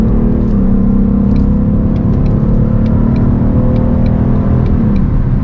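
A Ford Mustang S550 engine drones loudly and steadily from inside the car while held in fourth gear, a constant mid-pitched hum with a slight pitch drop near the end and no talking.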